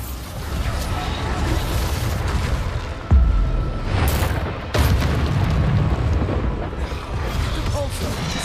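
Bombarda explosion spells in the video game Hogwarts Legacy go off as deep booming blasts, two standing out sharply near the middle, over a constant loud rumble of combat effects.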